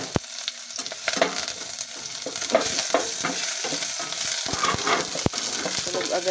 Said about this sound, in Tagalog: Lagyan natin yung lasuna at sibuyas.